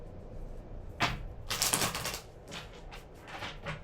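A deck of tarot cards is shuffled by hand, giving quiet bursts of riffling and flapping in irregular clusters, close and soft with no talk.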